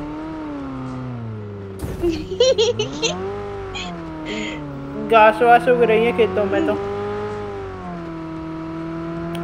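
A car in a video game leaves the road and drives into fields, its engine a steady, wavering drone throughout while people chat over it.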